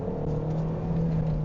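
Ford Kuga ST-Line engine revving hard under full acceleration, a steady rising drone with a strong low tone and engine whir close up inside the car.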